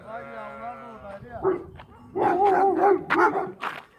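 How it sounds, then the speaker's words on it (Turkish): Dogs bark and yip close by in short, excited bursts, mixed with whining and people talking. "Her tarafımızı köpek sardı."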